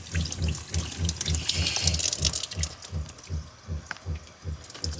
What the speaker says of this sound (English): So that's why you're hearing the water pump running